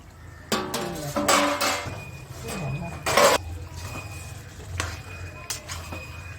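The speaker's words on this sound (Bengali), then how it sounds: "এবার আমি চাপাটা খুলছি" A pot lid is lifted off cooked chicken curry, giving a couple of short metallic clanks and scrapes against a faint kitchen background, with a voice speaking briefly.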